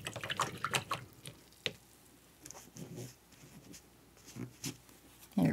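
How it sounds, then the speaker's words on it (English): Paint brush rinsed in a water jar, faint close splashes, drips and clinks in small irregular bursts with quiet pauses, ending with a louder swish. "I'm going to rinse this brush."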